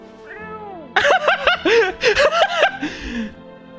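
A cat in a video game meows in a run of short, close, loud calls, some drawn out, with no speech over them.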